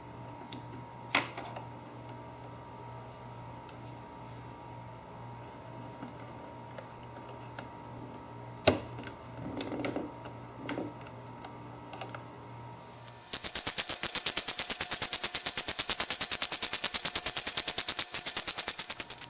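A power tool removing the umbrella bolt from the front motor mount of a 2016 FJR1300 motorcycle bursts into a loud, rapid, machine-gun-like rattle for about six seconds, following quieter scattered clinks and shop handling noises.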